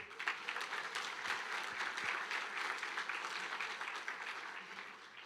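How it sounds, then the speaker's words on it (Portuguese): A church congregation breaks into sustained applause during a worship service, a dense, even wash of many hands clapping that carries steadily from a moderate distance without a break. "Você pode aplaudir Jesus?"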